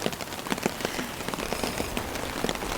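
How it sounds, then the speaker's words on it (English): Heavy storm rain drumming on a camping tent, a dense, continuous patter of drops close overhead, steady and loud throughout with no voices. "Man, It's so much rain. it's pretty stormy."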